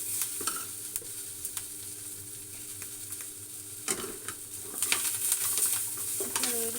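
Garlic cloves fry in a pan with a steady, close sizzle and crackle. Spoon stirs scrape in now and then, and the popping grows busier toward the end.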